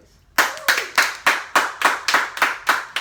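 Rhythmic group clapping in unison, about ten sharp, loud claps at a steady tempo after a short quiet start.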